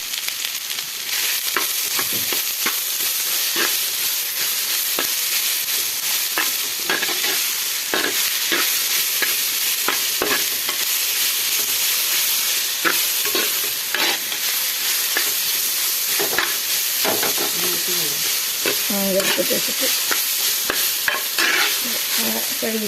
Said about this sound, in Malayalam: ഒരു 1/4 ടീസ്പൂൺ ഉപ്പും കൂടെ ചേർത്ത് നല്ലതുപോലെ ഇളക്കിയെടുക്കാം